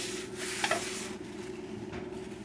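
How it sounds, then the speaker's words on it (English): A frying pan is wiped with a little oil while making sweet crepes, giving a soft rubbing and scraping swish with a brief louder stroke over a steady background hum. "Now we'll just wipe the pan so there's just a little oil in there"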